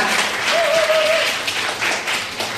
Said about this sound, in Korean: 저희 팀원들에게 큰 박수 한번 부탁드립니다